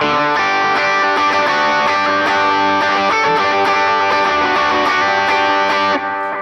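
A loud electric guitar through an Aspen overdrive pedal plays sustained, gritty chords with a thick distorted tone, ringing steadily before cutting down near the end.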